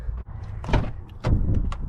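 The door of a 2019 Jeep Grand Cherokee Trackhawk, a 707-horsepower Hellcat-engined SUV, gives two close, solid thumps with light rustling between them as someone climbs into the cabin. No one speaks.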